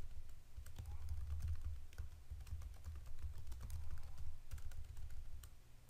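Soft, rapid keyboard typing clicks in uneven bursts, close by and fairly quiet, over a low steady background hum.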